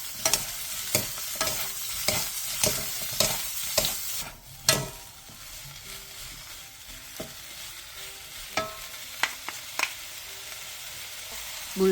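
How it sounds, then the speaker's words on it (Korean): Bellflower root stir-fried in oil with minced garlic and salt over medium heat: a steady pan sizzle runs throughout, punctuated by sharp clacks and scrapes of a utensil stirring, close and clear with no voices. "물기를 뺀 도라지와 다진 마늘 1스푼, 소금 1티스푼을 넣고 중불에서 2분 정도 볶아주세요"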